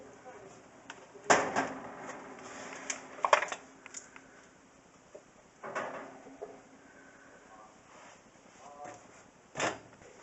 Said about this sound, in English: open up my oven door, and stick them back in